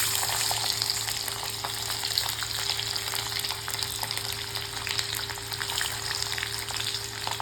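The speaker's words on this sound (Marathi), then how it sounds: "कढईत तेल टाकले मी, मला कारण लसूण फ्राय करायचं आहे ना" Garlic fries in hot oil in a wok, a constant crackling sizzle with fine spattering pops that stays steady and fairly close from start to finish, with no voices.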